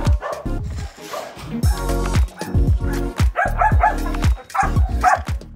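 A pack of hunting dogs used for wild boar hunting bark and yip excitedly at feeding time, close and loud, in rapid overlapping bursts with occasional whimpers.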